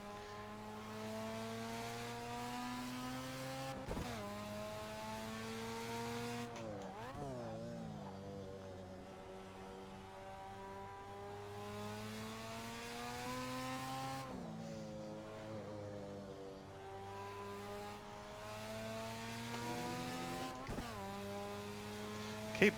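A Mazda RX-7 Group C race car in the Assetto Corsa racing game gives off a loud, continuous buzzing engine drone, its pitch climbing and dropping sharply with several gear shifts and lifts throughout.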